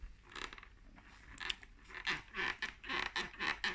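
Creaking and squeaking from an LS2 Pioneer adventure motorcycle helmet, a run of close, irregular rubbing squeaks and crunchy creaks that grow busier and louder in the second half, with no talk over them.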